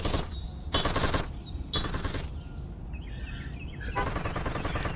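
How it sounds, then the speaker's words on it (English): A minigun fires in long rapid bursts in VRChat Super Tower Defense, loud and close, with brief gaps between the volleys and chirpy electronic game effects in between. "I'm going to keep the minigun around as long as possible"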